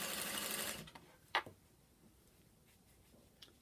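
A sewing machine stitching fabric for welt cord, a quick burst of rapid stitching at the start, then a sharp click and a few faint mechanical ticks in quiet.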